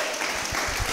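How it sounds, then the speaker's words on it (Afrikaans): Audience applause at a speaking event, a steady wash of clapping across the whole second, fairly loud and close, with no speech over it. "Gee hulle lekker hande klap."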